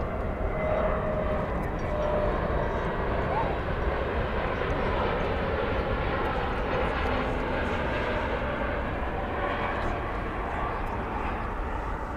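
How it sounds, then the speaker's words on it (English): An Airbus A321neo jet airliner arriving from Phoenix passes at Dallas Fort Worth airport. Its engines give a loud, continuous broadband roar that holds steady throughout, and someone talks faintly over it. "Flight 2849 from Phoenix and Airbus A321neo."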